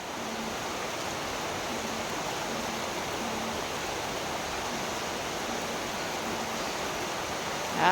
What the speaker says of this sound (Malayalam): ആയി നല്ല മഴ.